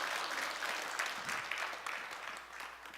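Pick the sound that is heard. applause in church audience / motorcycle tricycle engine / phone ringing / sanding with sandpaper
applause in church audience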